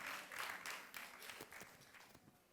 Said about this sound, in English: Let's put our hands together, ladies and gentlemen,